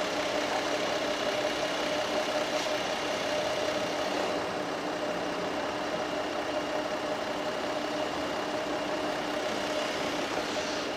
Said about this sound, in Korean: 이렇게 차량 엔진 소리 들어보셨죠? 2008년식이라고는 믿기지 않을 정도로 굉장히 정숙한 엔진 소리 들려주고 있는 차량이고